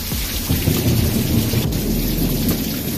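Heavy monsoon rain pours steadily over an Arizona yard during a thunderstorm, a dense, loud, continuous hiss with low rumbling thunder underneath and no speech.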